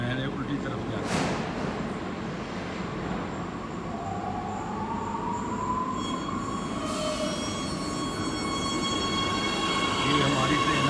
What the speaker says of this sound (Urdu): یہ ہماری ٹرین آ گئی ہے